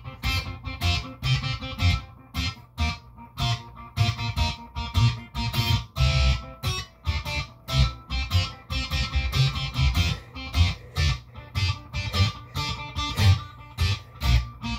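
An electric guitar fingerpicked in a rock style for a rock and roll cover, played as steady rhythmic plucked notes and chords with a slightly driven tone, alone and without talking.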